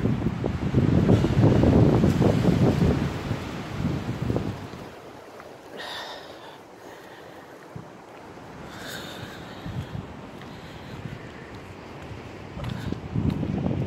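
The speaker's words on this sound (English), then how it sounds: "there's a bit of a strong wind going on." Strong winter wind in the woods in January, roaring and buffeting the microphone in loud gusts that ease to a lower rush before building again.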